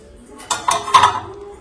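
A pot of fish curry with bottle gourd and prawns is set down in a home kitchen, giving a few close clinks of metal cookware against a surface in quick succession.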